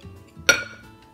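One sharp metallic clink rings out as chicken biryani ingredients are mixed in a pressure cooker, a brief close strike over a quiet background.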